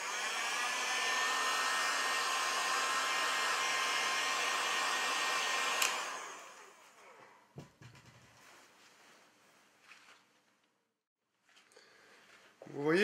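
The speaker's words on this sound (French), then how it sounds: "Vous attendez que ça sèche, pour vous sécher au décapeur ou sèche-cheveux." A hair dryer or heat gun blows loudly and steadily for about six seconds, drying a coat on leather, then switches off, leaving faint handling noises and quiet room sounds.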